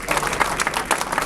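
An audience at a public square dedication ceremony in Sarcelles claps loudly and briskly for Dr. Usan, a close, dense burst of many hands.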